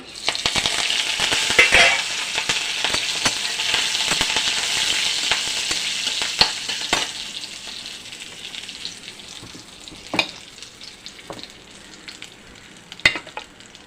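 Oil sizzles and crackles steadily as dried red chillies and curry leaves fry in a pan, with a few sharp pops and a spoon scraping now and then.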